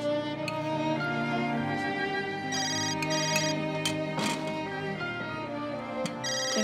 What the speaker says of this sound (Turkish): Telefonu çaldı.